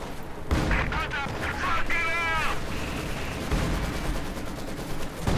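Artillery barrage in the Company of Heroes 2 war game: repeated booming blasts and gunfire rumble steadily through the battle, with a voice talking over it.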